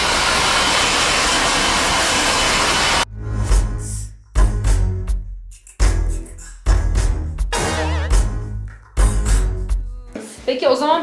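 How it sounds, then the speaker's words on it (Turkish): A hair dryer blows loudly and steadily for about three seconds, then cuts off, and a voice keeps talking with a few short pauses. "Fönler, saç kurutma, yarım saat,"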